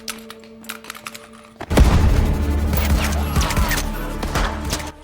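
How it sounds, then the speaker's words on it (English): Flashbang grenades go off in a TV series action scene: a sudden loud burst erupts after a quieter stretch of clicks and scattered sounds, followed by sustained booming rumble and clatter. "Flashbangs."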